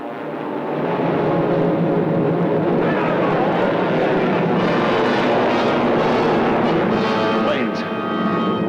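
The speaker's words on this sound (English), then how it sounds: "Planes." Aircraft drone overhead in a desert setting from a 1943 film, a loud continuous engine roar swelling and holding throughout with other sounds mixed in.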